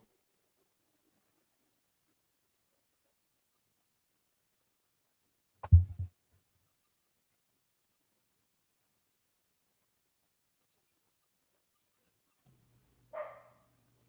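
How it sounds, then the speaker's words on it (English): A few dogs bark off in the background, one short cluster of barks midway and another brief bark near the end, with near silence in between. "They only Yeah, bark when I'm on an appointment or something important."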